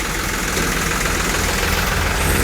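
A four-wheel-drive tractor engine rumbles loudly and continuously at close range while hauling a sugarcane-loaded trolley, a low droning idle with faint knocking and no voices.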